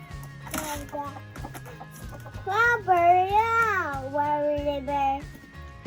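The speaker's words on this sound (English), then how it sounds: "I never thought that I'd have 6 adult chickens in our office" Several adult chickens kept indoors in a spare room, giving drawn-out rising and falling clucking calls that swell loudly in the middle, close by, over a low background rumble.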